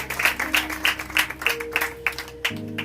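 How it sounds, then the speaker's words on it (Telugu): A church congregation claps along during a sermon, about a dozen sharp, rhythmic claps at a steady beat, close and moderately loud, with a sustained keyboard tone underneath. "చప్పట్లు పెడదామా?"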